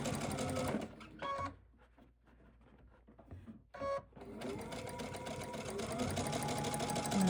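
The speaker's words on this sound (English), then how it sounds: "we're just going to sew right off the edge" Sewing machine stitching quilt pieces with a quarter-inch seam for Lone Star points: a fast, steady mechanical whir runs, stops briefly with light handling noises, then resumes loudly and continuously, close up.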